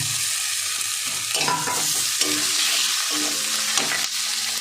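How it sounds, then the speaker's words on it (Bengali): Boiled taro stolons go into a pan of fried onion and garlic, giving a steady hissing sizzle with a few stirring scrapes and clinks throughout, fairly close and with no talking. "এবার আমি সেদ্ধ করার লতিটা দিয়ে দেবো"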